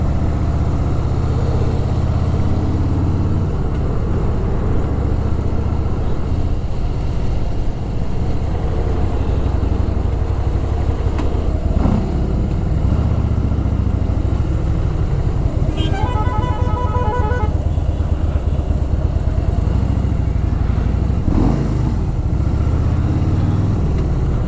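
A motorcycle on a Hyderabad highway gives a steady, loud engine drone with wind and traffic noise, a vehicle horn honking briefly in the middle.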